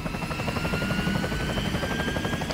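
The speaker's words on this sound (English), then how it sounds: "So I guess she went past the helicopter blades." Helicopter rotor blades in the video game Resident Evil 4 beat steadily at close range, a loud, continuous rhythmic chopping with an engine whine beneath and no voices over it.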